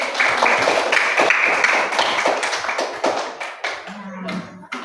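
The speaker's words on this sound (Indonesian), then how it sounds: "Tepuk tangan dulu." A classroom group at a coding and artificial intelligence training session claps hands together, a loud continuous burst of applause that tapers off near the end with a voice briefly heard.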